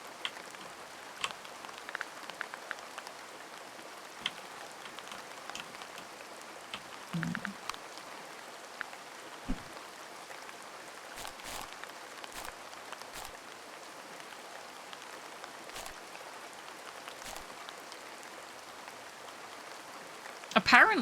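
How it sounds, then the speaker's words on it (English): Rain falls in a cosy garden-management video game, a soft continuous patter with scattered sharper drop ticks and a brief burst near the end. "So rainy in this game today."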